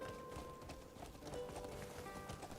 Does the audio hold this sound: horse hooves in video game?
yes